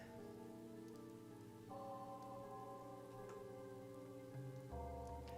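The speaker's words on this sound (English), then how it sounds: "the only sound in the alley was the sound of the rain." Rain falling in an alley in the visual novel Chaos;Child, a continuous soft patter of drops under a layered sustained musical backdrop with shifting tones.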